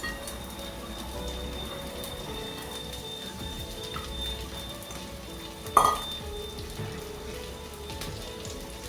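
Washed red lentils frying in a pan for murighonto with fish head, a constant low sizzle with faint stirring, interrupted near the end by one brief clatter of a utensil, close and without speech.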